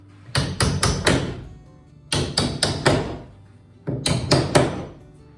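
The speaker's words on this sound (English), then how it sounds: "take a little hammer and tap them back into place" Three quick bursts of sharp tapping, each a cluster of four hard knocks from a small hammer on wooden door shims, separated by short pauses.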